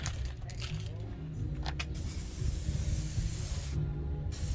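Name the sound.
spray painting a Cutlass door panel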